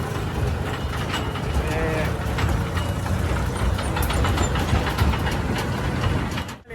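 A tractor engine runs at a steady idle, a constant low rumble, while people talk loudly nearby over it.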